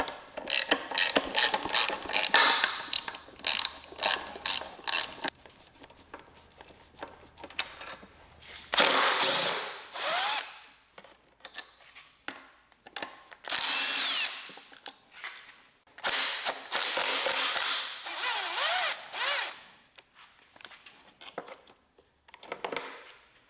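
Hand tools work on the starter of a Johnson outboard motor, giving rapid bursts of ratchet clicking, then scattered clanks and longer ratcheting runs. Everything sits close and moderately loud, with no speech.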